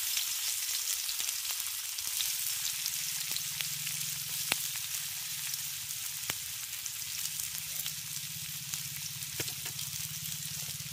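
Chopped onion fries in hot mustard oil, giving a steady, close sizzling hiss that continues unbroken with no voices.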